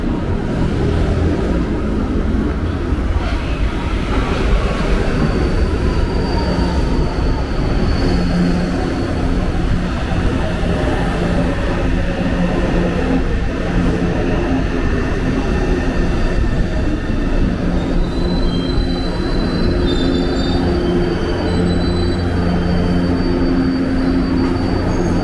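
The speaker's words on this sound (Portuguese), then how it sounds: "Tá vindo um trem da Frota H ali agora?" A São Paulo Metro Line 3 train rumbles steadily into Artur Alvim station, with a broad low roar and faint high squeals from the wheels throughout. Loud and close.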